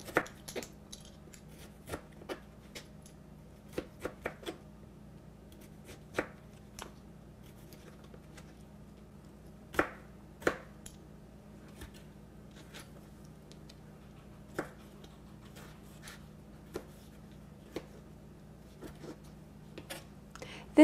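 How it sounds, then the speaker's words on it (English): A sharp knife chops a tomato on a board, giving scattered soft taps and clicks at irregular intervals, quiet and close, with long pauses between cuts. "And then swivel and chop."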